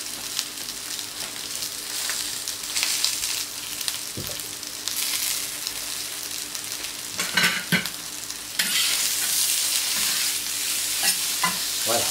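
Small tomatoes seasoned with oregano sizzle steadily on a hot plancha, a continuous hiss and crackle with occasional scraping and utensil clinks.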